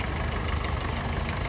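A vintage tractor of early uniform construction, likely a Fordson, idles at an agricultural show on Anglesey, its engine giving a steady low chugging rumble, close and continuous with no talk.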